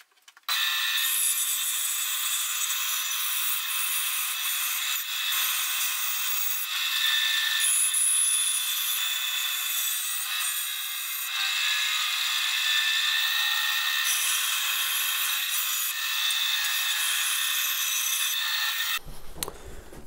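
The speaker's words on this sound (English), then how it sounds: "And we've got another trip to the bandsaw." A bandsaw cuts out a wooden guitar neck blank for an ES-335-style build, a steady, loud, high-pitched rasping whine that runs continuously for about eighteen seconds before the blade winds down.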